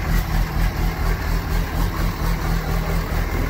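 A 2004 Cummins diesel truck idling on a lopey show tune: a deep, loud engine rumble close by with a steady loping pulse rising and falling about four times a second, and no talking.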